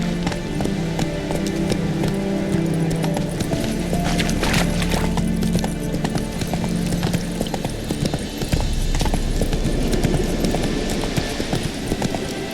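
Roach, a horse in the video game Witcher 3, clip-clops along with steady, rhythmic hoofbeats over an ambient game soundscape, without voices.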